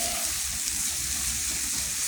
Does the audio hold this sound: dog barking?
no